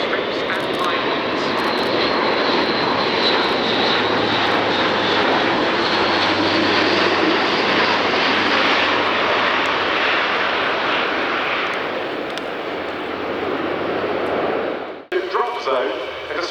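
Luftwaffe Airbus A400M Atlas military transport, a four-engine turboprop with a 14-wheel landing gear, roaring loud and steady during a flying display at RIAT, the engine drone holding for about fifteen seconds before cutting off abruptly.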